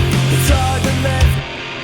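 A single distorted electric guitar plays with a thin, fuzzy tone, the lows and mids filtered out, then trails off.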